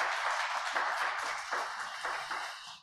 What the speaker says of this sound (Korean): 하나님 앞에 영광의 박수 올려드리겠습니다.